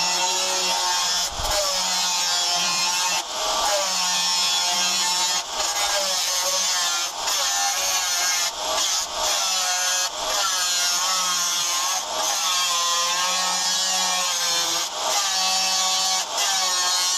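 An abrasive cutting disc grinds through an old steel saw blade, a loud harsh continuous whine with brief dips where the disc eases off, close and steady with no talking.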